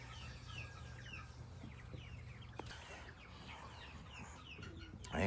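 Quail in a farm pen give a scatter of short chirping calls, faint and fairly close, over a low steady hum of background noise with no speech.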